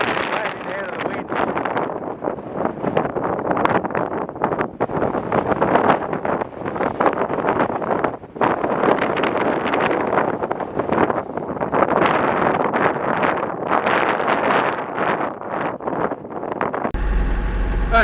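Strong coastal wind buffets the microphone on the Eyre Peninsula shore, a continuous loud rushing roar with gusty swells throughout and a brief lull midway.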